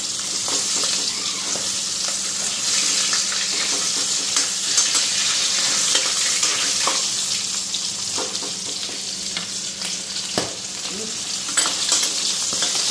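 Fish pieces fry in a pan with a loud, continuous close sizzle and crackle, broken by a few sharp clinks and scrapes.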